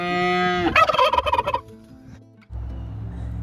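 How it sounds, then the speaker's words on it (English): Turkeys gobble loudly and close by in a rapid warbling burst, then fall quiet before a low rumble of background noise on a farm in fall weather. "The turkeys are here to remind us that fall weather is finally here."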